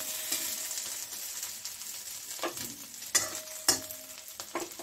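An omelette sizzles steadily in a hot pan while it is flipped, with a few louder clatters and scrapes from the turner against the pan standing out above the continuous frying hiss.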